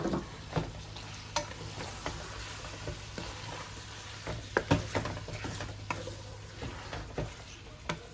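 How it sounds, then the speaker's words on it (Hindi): Chicken karahi with green chillies sizzles in a pan, a steady frying hiss under repeated close clacks and scrapes of a stirring spoon against the metal. "थोड़ी देर भूनेंगे"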